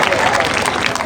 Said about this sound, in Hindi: तालियां बजती रहनी चाहिए भाइयों बहनों, तालियों में कंजूसी ना रखिए आप लोग